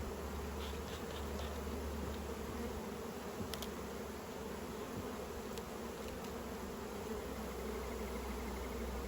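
Honey bees are shaken off a hive excluder into a brood box, making a dense, continuous buzzing drone that stays loud and even throughout with no talk.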